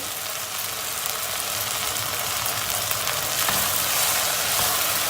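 Dried mint sautéing in a pot for a golden lentil soup, a steady broadband sizzle and crackle running throughout, close and fairly loud with no talk.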